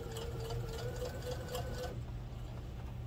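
A sewing machine stitches pom-pom trim onto a baby bib: a steady close mechanical whir with a rapid needle rhythm that stops partway through, leaving a quieter hum.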